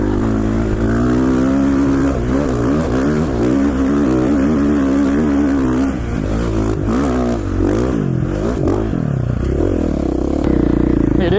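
A motorcycle engine revs repeatedly at close range, its pitch swinging up and down in rising and falling surges over a steady loud rumble.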